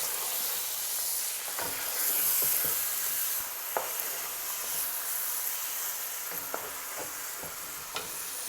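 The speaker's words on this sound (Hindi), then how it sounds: "ये अदरक अभी हम इसको हल्का सा फ्राई करेंगे" Ginger frying lightly in a pan for chicken biryani gives a steady, close hiss and sizzle, with sharp scrapes and clicks of stirring scattered throughout.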